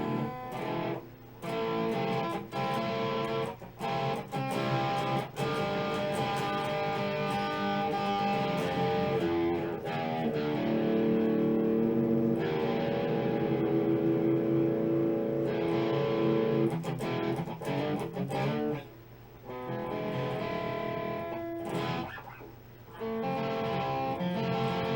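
Ibanez electric guitar with heavy distortion plays metal shredding riffs, loud and sustained for most of the span, with a few brief gaps and fast picked runs.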